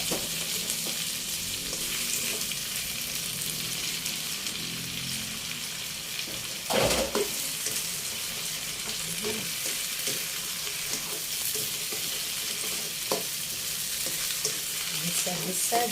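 String beans stir-frying in a pan for a mixed-vegetable dish, with a steady, close sizzle and scraping stirs throughout and one sharper clatter partway through.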